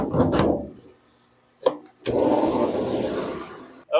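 A Lortone lapidary saw cuts into a Wyoming rock with a close, steady rasping grind, broken by short knocks and a brief pause before the grinding resumes.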